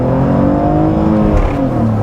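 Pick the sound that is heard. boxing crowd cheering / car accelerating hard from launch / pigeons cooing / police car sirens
car accelerating hard from launch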